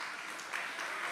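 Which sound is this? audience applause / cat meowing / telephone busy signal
audience applause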